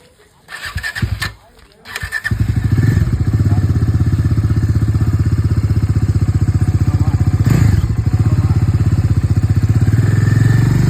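A Bajaj Dominar 400 motorcycle cranks with a brief clatter, then catches into a loud, steady, close engine rumble that holds as the bike pulls away, with a slight surge near the end.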